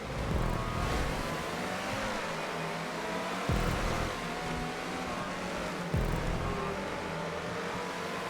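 Throaty off-road vehicle engine in the video game TORC, a continuous rough roar with shifting revs and a couple of sharp jolts, loud and close throughout with no talking.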